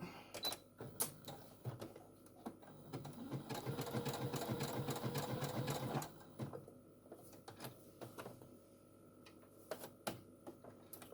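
A home sewing machine runs a zigzag stitch in a quick rhythmic chatter for about three seconds, framed by softer clicks and handling of fabric and the machine, close up and with no speech.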